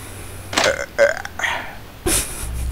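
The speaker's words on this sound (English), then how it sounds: "I don't know how to burp on command" Someone burps several times in quick succession, short close guttural belches that come one after another.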